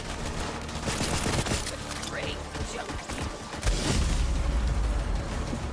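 Automatic pistol firing in the video game Borderlands 3, rapid bursts of gunfire mixed with explosions and mechanical game effects, loud and continuous with a player's voice talking over it.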